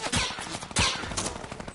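A minigun fires in a shooting video game, several loud rapid bursts of automatic fire in quick succession with no pauses between them.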